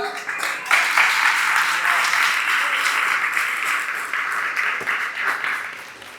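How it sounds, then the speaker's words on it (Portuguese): A church congregation applauds steadily for about six seconds, a dense, moderately loud wash of clapping with a few voices calling out faintly underneath. "dá um aplauso a Jesus"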